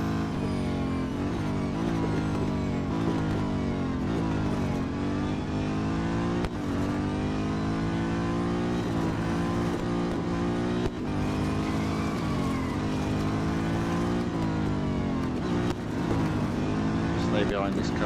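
In Real Racing 3, a Chevrolet Corvette C7.R racing engine roars continuously, pitch climbing and dropping through gear changes, with a commentator talking over the engine throughout.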